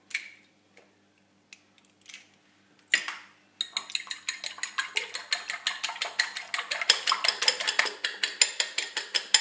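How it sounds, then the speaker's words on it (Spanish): Eggs being whisked in a deep bowl: after a few scattered taps, a fast steady rhythm of close, bright clinks of the whisk against the bowl runs on without a break. "Lo primero que tenemos que hacer es batir los huevos"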